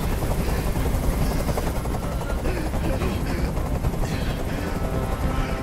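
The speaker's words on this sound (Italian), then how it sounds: "Questo rumore mi sta facendo impazzire! Digli di mandare via quell'elicottero!" A helicopter hovers overhead in the Detroit: Become Human video game, a loud, steady rotor roar that fills the whole scene, with shouting voices buried in the din.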